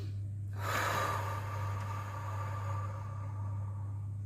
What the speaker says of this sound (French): on va prendre une grande inspiration